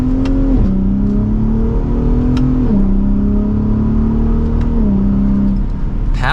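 A 2023 Ford F-150 Raptor pickup engine pulls hard and loud in second gear, its pitch climbing in long sweeps that dip sharply at each gear change, heard steadily from inside the truck.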